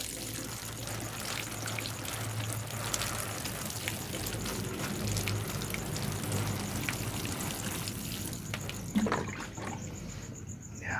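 Water poured over a porous bonsai potting mix of soil and rice husk, a steady splashing and trickling wash that runs close and continuous with a low hum underneath and no speech.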